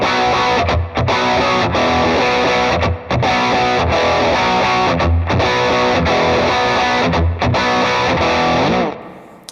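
Heavily distorted electric guitar power chords through a Valeton GP-200 ring out loud and close, struck in a steady rhythm with brief gaps, ending as the last chord fades.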